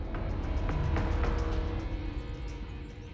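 A Cadillac Escalade V's V8 engine roars loud and raucous, holding a steady, rumbling drone with a rasping edge for about three seconds before easing off slightly toward the end.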